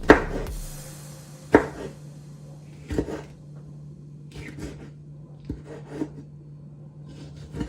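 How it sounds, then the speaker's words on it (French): A knife slices food diagonally on a cutting board while a salmon salad is being made. There are about eight sharp, close cuts spaced irregularly over a low, steady background hum. "Coupez en diagonale comme ça"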